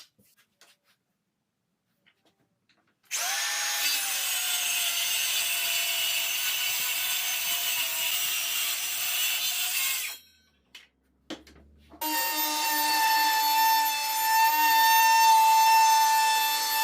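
Steady abrasive whirr of a power sander working a recycled Blackbutt timber breakfast bar, two long continuous passes separated by a brief pause, loud and close with no talking.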